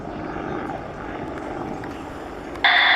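Steady thumping roar of an RAF Apache attack helicopter's rotor and engine at the 2019 Royal International Air Tattoo, loud and close, with a sharp high-pitched tone cutting in near the end.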